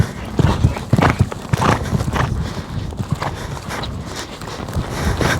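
Hooves of a ridden horse clip-clop in a steady walking rhythm during a riding lesson, close and fairly loud, with occasional faint voice in the background.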